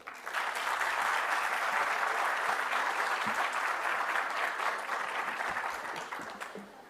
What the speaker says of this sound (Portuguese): Recebam com uma salva de palmas o general Santos Cruz